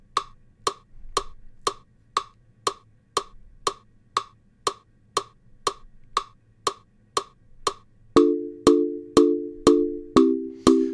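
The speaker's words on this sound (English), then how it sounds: "let me turn on the metronome just so we can hear it." An OP-Z synthesizer's metronome ticks in a steady, even pulse of sharp clicks, and sustained synth chord tones join in under the ticking near the end.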